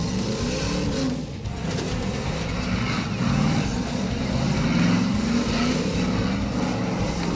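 A 4x4 off-road truck at an extreme jamboree event in Lavaltrie rumbles over bumpy terrain, its engine droning loud and close with shifting pitch as it works through the rough ground, with no talking.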